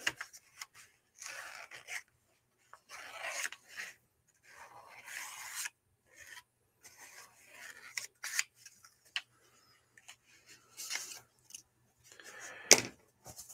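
Scissors snip and trim through material during a craft build of a dragon, a series of short crisp cuts in scattered bursts with quiet gaps between, close and moderately loud with no talking.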